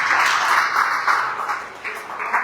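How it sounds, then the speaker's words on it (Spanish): A church congregation claps in welcome for a first-time visitor, a brief burst of applause with uneven swells that fades slightly toward the end. "Fuerte aplauso para ella."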